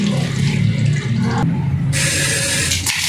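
Water pours out of the outlet of a 4-stage UV water filter, a loud steady gushing stream with sudden shifts in tone as the flow changes partway through.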